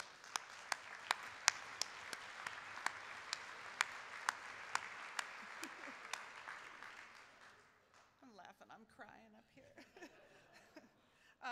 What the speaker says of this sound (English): if they could stand, we could give them a round of applause.